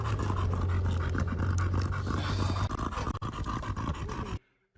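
A dog pants steadily and fast at close range for about four seconds, with some scratching and scuffling around it, before the clip drops into sudden silence.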